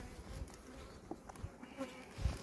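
Honey bees forage on flowering rapeseed, a soft, faint buzzing hum drifting in and out outdoors with a few low thumps, heard without talking.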